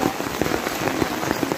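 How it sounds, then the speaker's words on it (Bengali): Heavy rain pours down outdoors on Eid day in Dhobaura, a thick, continuous patter with scattered nearby drips and splashes, steady and fairly loud, with no one speaking. "প্রচুর বৃষ্টি হচ্ছে।"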